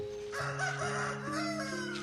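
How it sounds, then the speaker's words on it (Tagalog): A rooster crows at sunrise as a story sound effect, a single drawn-out call heard clearly and alone. "Sumisikat na ang araw, Madam Venus. Umuhuni na ang ibon"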